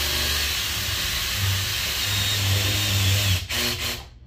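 Ball burr on a rotary tool cutting out a steel rivet on a replacement inner cooler scoop for an 86-87 turbo Buick: a steady close hissing whine with a low hum that runs for over three seconds, then sputters and stops.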